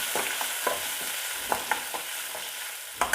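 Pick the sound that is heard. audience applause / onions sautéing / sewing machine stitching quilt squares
onions sautéing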